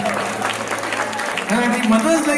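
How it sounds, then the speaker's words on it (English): Audience applause at a comedy show during an international Sindhi gathering in the USA, a steady wash of clapping with a voice talking over it that grows louder in the second half. "Give them a round of applause."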